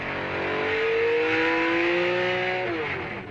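A 1972 Alfa Romeo Tipo 33 race car accelerates hard, its engine note climbing in a smooth rising whine that swells loud and then eases off near the end.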